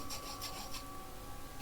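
A steady rasping scrape, like a saw cutting back and forth, continuous and close, ending in a sudden dull thump, from a saw in the Roblox game Circus Trip.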